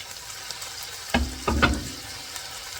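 Carrots and celery sautéing in a pot for Tuscan white bean soup with Italian sausage, a soft sizzle with a few louder stirring scrapes and clatters in the middle.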